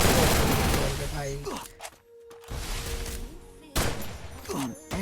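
An MP40 submachine gun fires in a shooting video game: dense rapid bursts of broadband gunfire that pause briefly mid-clip, then resume loud and close.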